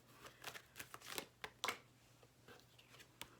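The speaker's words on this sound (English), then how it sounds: "I'm gonna shuffle some more." Tarot cards are shuffled by hand, giving faint, quick papery riffles and soft slaps in an irregular rhythm against a quiet background hum.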